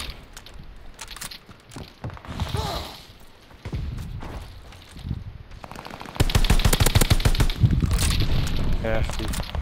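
Video game gunfire crackles in bursts of rapid automatic shots and thuds, building to sustained loud firing near the end, while players talk over it.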